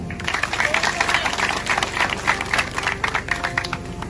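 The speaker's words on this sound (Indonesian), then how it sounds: "Tepuk tangan dong." An audience claps at a public speech, close and fairly loud clapping in a busy, uneven rhythm, mixed with crowd noise and some voices underneath.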